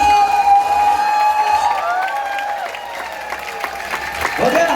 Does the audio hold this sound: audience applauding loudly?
yes